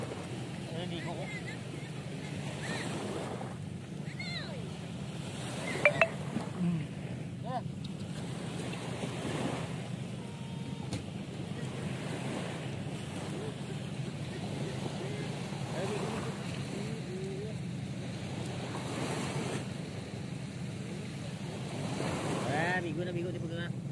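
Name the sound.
sea waves at the beach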